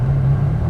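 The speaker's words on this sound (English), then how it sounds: "we're driving a 2001 360 Modena Ferrari" A 2001 Ferrari 360 Modena's engine drones at a steady low rumble while driving, a brief loud burst with no speech.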